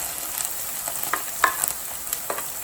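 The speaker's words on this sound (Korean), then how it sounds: "이럴 때 이제 감자를 넣으세요" Potatoes go into a pan of tuna with spring onions and fry with a soft sizzle, punctuated by a few light scrapes and clicks of stirring; no voices.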